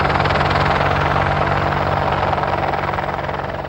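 An Apache attack helicopter roars loudly and continuously, its rotor chop thudding steadily under a broad engine whine, holding close before easing slightly at the end.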